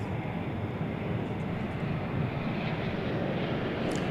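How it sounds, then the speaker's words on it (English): A fixed-wing airliner arrives at DFW Airport on a flight from Ontario, giving a steady broad engine roar that holds loud and constant throughout with no talk. "catch the arrival of the flight from Ontario here on the waning moments of Runway DFW"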